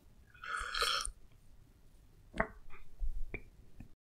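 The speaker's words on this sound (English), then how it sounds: "I'll say a woman sips from a coffee cup." A loud, wet slurping sip with a gulp, followed by a few small clicks and taps, like a cup being set down.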